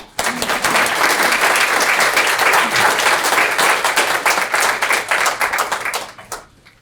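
An audience applauds to welcome Dr. Richard Matthew, a dense, steady wash of many hands clapping that holds for about six seconds before thinning out and fading.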